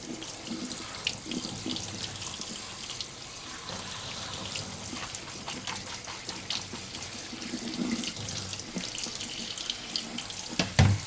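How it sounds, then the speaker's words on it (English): Cold water runs from a kitchen tap over bean sprouts in a sink, a steady splashing stream with small fluctuations, moderately quiet and continuous, with no voices. "cool off the bean sprouts here with cold water"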